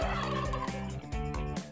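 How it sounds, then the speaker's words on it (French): A turkey gobbles in a loud, close series of warbling calls that roll on without pause for a little under two seconds, with no talk over them. "La dinde de Bart lui échappa des mains."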